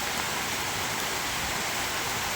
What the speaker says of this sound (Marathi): आणि भयान पाऊस चालू